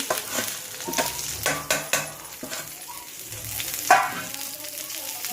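Stuffed green chillies with gram flour masala fry on a low flame while being stirred, giving soft sizzling under repeated scraping and tapping of a spatula against the pan, close by, with a few brief louder knocks.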